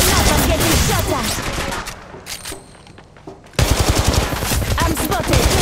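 Rapid bursts of close, loud automatic gunfire in the Apex Legends Mobile battle game, played on an iPhone 13, drop away into a brief lull, then resume in hard, fast volleys.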